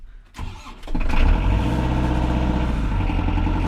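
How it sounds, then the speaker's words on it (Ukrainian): A Kubota KL46 tractor diesel engine cranks over briefly in freezing weather, catches with a rough burst and settles into a loud, steady low idle close by. "Зараз подивимося на холодний пуск цього трактора."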